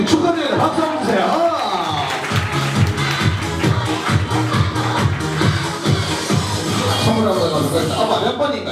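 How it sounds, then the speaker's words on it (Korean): Guests at a first birthday party applaud in a steady, dense round of clapping mixed with crowd chatter and cheering, as a voice speaks over the room throughout. "박수 한번 주세요."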